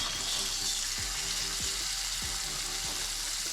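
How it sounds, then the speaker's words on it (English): Bonito fillet searing in a very hot pan, a loud continuous close sizzle with a few soft low thumps, no talking. "I'm gonna give this a nice sear, get a nice color on it"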